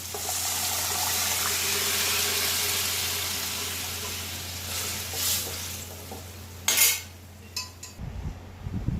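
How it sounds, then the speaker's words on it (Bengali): Boiled chickpeas and their cooking water tipped into a pan of tomato purée for chana masala, a steady hissing simmer with a few clinks and stirring scrapes near the end. "এবার আমি ছোলাটা দেবো জল শুদ্ধ ছোলাটা আমি দিয়ে দেবো"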